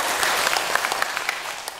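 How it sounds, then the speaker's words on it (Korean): A small gathering at a Buddhist temple dharma talk claps briefly, a light, fairly quiet patter of scattered hand claps that fades slightly toward the end. "일단 박수 한번 치고 시작합시다."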